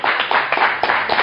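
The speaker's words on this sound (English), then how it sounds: "Can we get a round of applause for" Audience clapping at a comedy magic show, a dense burst of handclaps with uneven sharp peaks, fairly loud and close, with no talk over it.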